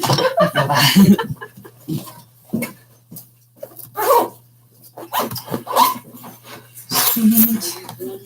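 Dogs in a home bark in short bursts between stretches of talk, the barks close and sharp, with quiet gaps and a faint steady hum underneath.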